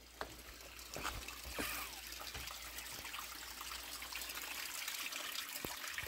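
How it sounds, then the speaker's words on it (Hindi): Water trickles down from above at Joganiya Mata Temple in Bhilwara, Rajasthan, a steady close splashing and dribbling with scattered drips throughout. "यहाँ पे देखो थोड़े थोड़े ऊपर से ना पानी आ रहा है"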